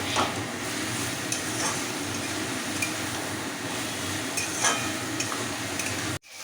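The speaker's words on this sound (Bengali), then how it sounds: "খুব ভালোভাবে ভাজতে হবে, ভাজতে ভাজতে মনে হবে একদম কষানো হয়ে যাবে। ভাজতে ভাজতে জল বেরোবে" Chopped vegetables and prawn stalks sizzle steadily in a pan, a continuous close frying hiss with occasional spatula scrapes and stirring clinks, cut off abruptly at the end; no one talks.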